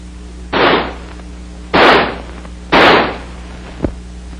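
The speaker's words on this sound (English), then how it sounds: "By closing the bolt and turning the selector lever to semi, the rifle will fire semi-automatically." An M16 rifle fires three loud, sharp single shots in semi-automatic mode, each spaced about a second apart with a short decaying tail, followed by a fainter click or metallic report.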